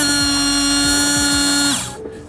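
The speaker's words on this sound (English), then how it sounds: "the electrical motor will kind of sound like this." Electric washer pump motor on a car windshield washer system whirs as a loud, steady high-pitched hum close by, then winds down and stops near the end.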